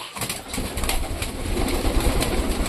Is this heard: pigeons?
yes